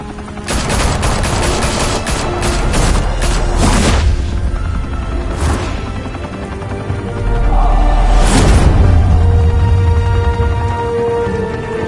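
Gunfire in a Batman video game: a loud volley of rapid shots and booming blasts, bursts clustered early, then isolated heavy reports and a big explosion-like boom, close and harsh.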